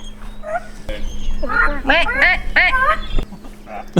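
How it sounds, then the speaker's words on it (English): Duck quacking during a hunt, a burst of several rapid nasal quacks in a row at close range, loud and clear above background hum. "There's a duck coming in."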